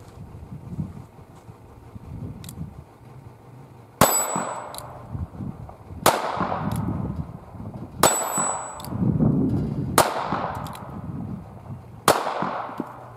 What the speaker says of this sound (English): So just taking a shot at that steel plate, I wasn't even using the sights.